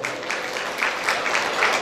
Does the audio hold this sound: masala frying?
no